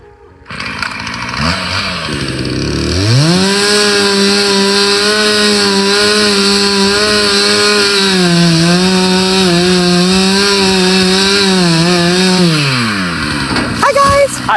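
A chainsaw starts up, climbs to full throttle and holds a loud, steady, buzzing roar while sawing through wood on a rural homestead, then winds down near the end, with brief voices at the start.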